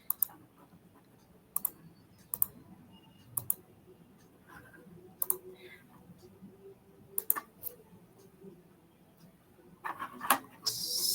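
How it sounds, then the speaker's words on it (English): Computer mouse clicks at a desk during screen work on UiPath automation software: about eight sharp, quiet clicks spaced irregularly over a soft room hum, with faint background murmur. "my mouse clicks are happening"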